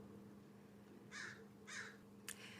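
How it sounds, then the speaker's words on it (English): Crows cawing outdoors, two hoarse caws and a shorter third call, fairly distant over a steady low background hum. "I love that my crows came and helped me with that poem"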